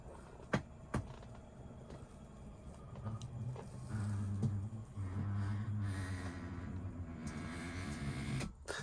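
The electric motor of an Elddis Platinum 196 caravan bed raises the bed with a steady low mechanical hum and grinding, preceded by a few sharp clicks and thumps, close and moderately quiet.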